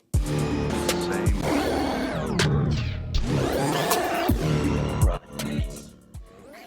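A voice run through an SP-404 sampler's voice transform effect, pitch-shifted and warbling, with sharp percussive hits punctuating it; loud and continuous, fading near the end.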